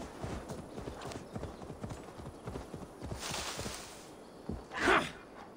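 Horse hooves in Assassin's Creed Valhalla clip-clopping in a quick, steady gallop rhythm, followed near the end by a short loud snort or whinny.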